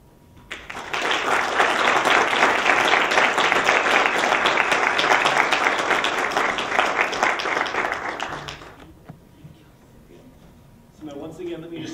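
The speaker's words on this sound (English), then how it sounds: "Can we have another round of applause?" An audience at a European Parliament delegation event gives a speaker a sustained round of applause, a dense, even burst of clapping that swells quickly, holds for several seconds, then fades out, followed by a brief voice.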